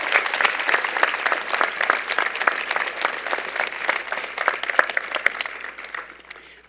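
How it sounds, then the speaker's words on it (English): Sustained clapping from a convocation ceremony crowd honouring a professor, a dense steady patter of many hands that holds strong, then thins and fades toward the end. "Could I have a round of applause for Professor Simons?"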